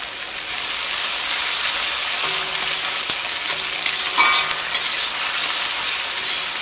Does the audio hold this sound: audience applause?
no